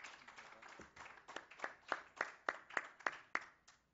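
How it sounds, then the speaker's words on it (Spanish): A small audience at a Spanish-language geophysics commission session claps in sparse, distinct hand strikes that build into a short rhythmic patter, fairly faint and close, then stop. "Le damos un aplauso y muchas gracias"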